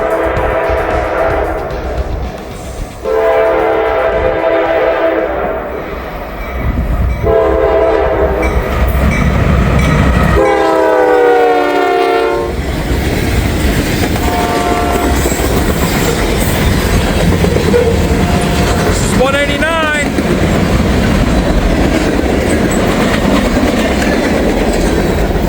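A heavy freight train hauling aluminum ingots passes close by, loud and continuous, with repeated horn blasts sounding in bursts and a steady rumble of wagons underneath.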